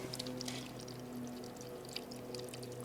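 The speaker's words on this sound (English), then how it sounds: "This is pumping water out of the water feature." Quiet, steady trickle of water pumped out of a water feature through a sediment filter, with a low pump hum underneath and a few faint splashes.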